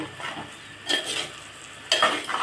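A spoon stirs a drumstick pulusu curry with ginger-garlic paste in a pot, two distinct scraping, slightly sizzling stirring passes close by, with no talking.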